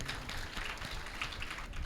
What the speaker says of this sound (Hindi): सुंदर तालियां बजाइए।